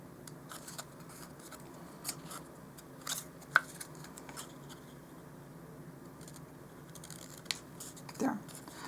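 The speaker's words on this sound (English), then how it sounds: "At this fold, I'm cutting off all but that center piece." Scissors snip paper while shaping a miniature dollhouse lunch bag, a few faint, sparse cuts and light paper rustles close by in a quiet room.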